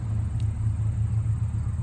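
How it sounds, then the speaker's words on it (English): Low, steady rumble of a car driving by outdoors during metal detecting, a continuous engine and road drone that fills the short moment at moderate distance. "wait till the car goes by"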